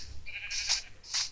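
A sheep in the video game Minecraft gives two short bleats, the second following about half a second after the first, fairly close over a quiet background.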